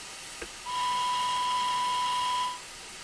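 A steady, shrill steam whistle from an LSWR M7 locomotive in a train simulator game sounds for about two seconds over a low hiss, starting after a faint click and cutting off cleanly.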